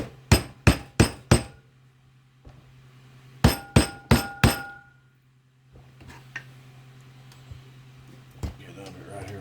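A screwdriver struck and pried against a metal axle boot clamp on a 2019 Kawasaki Teryx front axle held in a vise, giving two quick bursts of four sharp metallic taps, then softer scraping and clinks.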